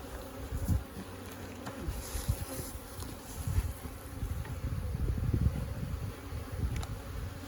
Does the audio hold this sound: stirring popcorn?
no